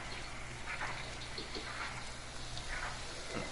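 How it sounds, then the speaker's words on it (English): Rain falls in the survival video game The Forest, a soft, continuous hiss of drops spread evenly across the scene, faint and steady with a few scattered patters, and no one speaking. "Oh, it's raining."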